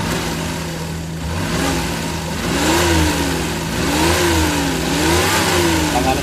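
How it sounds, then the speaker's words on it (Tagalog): A Suzuki K6A engine in a DA64W runs rough after an overhaul, misfiring with an uneven, sputtering exhaust. The note rises and falls through several revs, close and loud. "Kita na to diha mga idol nga murag nagbuto-buto ang andar sa iyahang exhaust"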